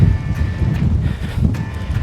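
Steady broadband wind rumble buffeting the microphone on the Welsh hill Moel Famau, gusting slightly louder and softer throughout, with no voices.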